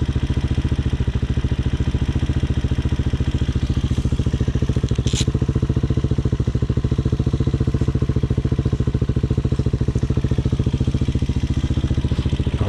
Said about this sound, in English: she's running, no choke, and that's what idle sounds like when it's supposed to be running good